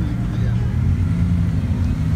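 A Bugatti Veyron drives by with a deep, steady engine rumble held close and loud across the whole short moment, while a voice speaks over it.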